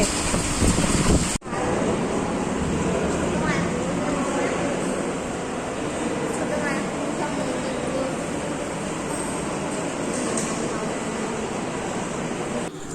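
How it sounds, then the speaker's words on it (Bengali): Heavy rain pours during a storm, a dense, continuous roar of downpour that stays loud and steady from start to finish after a brief cut near the beginning. "বুঝতে পারছো কেমন বৃষ্টি হচ্ছে"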